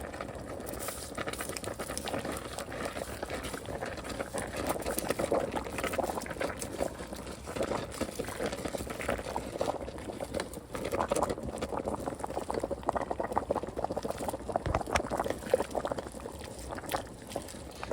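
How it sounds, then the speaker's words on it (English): Water at a rolling boil in a pot for spaghetti noodles, a dense continuous bubbling and churning with sharp pops and splashes, loud and close, holding steady with no talk. "I got my water boiling for my noodles, getting ready to drop them"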